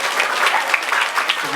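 Brief burst of school audience applause at a junior high school event in Bekasi, dense steady clapping filling the short moment at fairly loud level.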